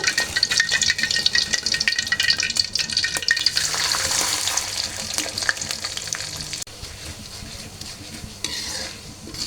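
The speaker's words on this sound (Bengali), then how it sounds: "তো আমি এখন চিড়াগুলো ভেজে নেব।" Flattened rice (chira) frying in hot oil in a wok, with loud crackling sizzle and the scrape of stirring, strongest at first and easing gradually over about nine seconds.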